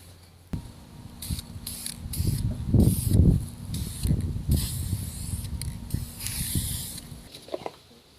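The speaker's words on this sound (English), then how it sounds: "I'm just gonna lay it down and then start spraying the purple Duplicolor" Short bursts of hissing purple Duplicolor aerosol spray paint from a can, repeated in an irregular series with brief pauses between, close by.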